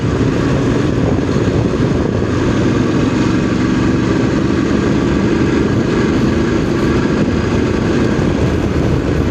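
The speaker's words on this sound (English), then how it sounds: "another bit of a clip of riding the country lanes on the DSX 900" A DSX 900 motorcycle is ridden along country lanes, its engine a constant close, loud drone blended with heavy wind rush, unbroken and steady throughout.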